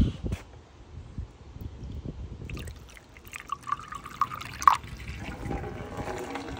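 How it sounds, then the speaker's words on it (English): A household toilet flushes after an object is dropped in, giving a steady rush of water with gurgling and trickling that swells midway and then drains down, heard up close with no talking. "Let's flush it."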